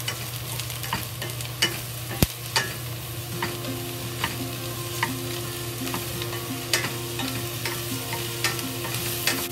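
Mushrooms and scallion frying in a pan for fried eggs with mushrooms, a steady sizzle broken by regular scraping and stirring clicks and one sharp clatter.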